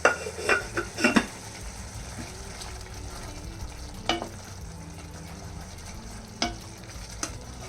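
Cut potato and spices fry in a pan while a spoon stirs them, giving a steady sizzle under scraping clatters of utensil on metal, clustered near the start and then spaced out, close up, with no voices.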